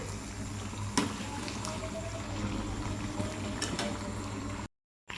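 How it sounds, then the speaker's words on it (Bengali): Potato fritters (aloo bora) sizzle steadily in hot oil, a continuous close crackling hiss with a few sharper pops, cutting out briefly near the end. "প্রথমে আলুর বড়াগুলো ঝেড়ে দিয়েছি, এগুলো এবার লাল লাল করে ভেজে তুলে নেব"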